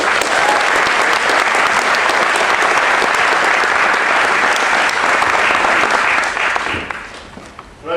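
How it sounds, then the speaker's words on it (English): A large audience at an Ignite talk event bursts into loud, sustained applause with dense overlapping clapping, holding steady for about seven seconds before quickly fading out. "Let's have a big round of applause for Tim Marzullo"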